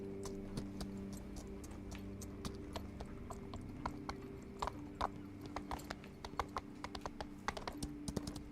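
Steady hoof clip-clops from a game horse, sharp irregular taps over a constant low hum, growing a bit busier toward the end.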